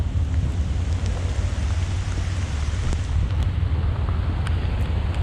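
Steady rain falls on a mountain trail near Looking Glass Rock along the parkway, a dense hiss with a low rumble and occasional sharp drops, with no one talking.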